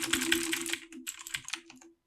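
Fast, steady typing on a computer keyboard, with dense clicking keystrokes close up and loud, a short pause in the middle, and no voices.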